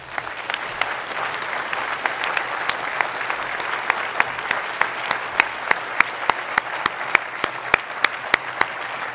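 Applause from an audience at the 2012 American Geophysical Union honors tribute, a loud sustained clapping from a large crowd in a hall that holds steady throughout.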